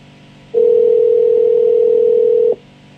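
A telephone call tone sounds as one steady, loud, pure beep lasting about two seconds, alone over quiet background.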